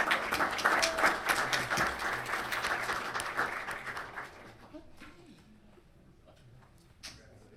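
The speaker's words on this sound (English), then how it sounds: "One more round of applause." Applause from the audience at a Los Alamitos city council meeting, loud and dense for about four seconds before tapering off into a quiet room, with a single stray clap near the end.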